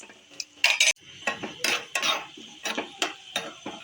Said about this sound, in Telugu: ఈ నెయ్యిలో నేను వీటిని మంచిగా వేయించుకుంటున్నా.